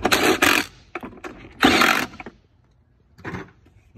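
A power tool drives bolts down on the controller of a 2000s EZGO TXT 36-volt PDS golf cart in three loud, close bursts of whirring and rattling, each under a second long, separated by short pauses.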